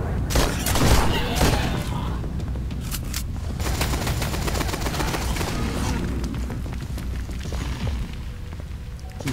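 Gunfire in Duke Nukem 3D on a user-made map, a dense burst of rapid shots and booming blasts early on, then a continuous loud clatter of weapon fire and game noise throughout.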